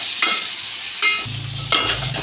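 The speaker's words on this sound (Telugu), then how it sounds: "ఇప్పుడు పీసెస్ కలుపుతున్నాము" Liver pieces stirred in a hot frying pan, three distinct scraping strokes at roughly even intervals over a steady sizzle, close and clear, with no talking.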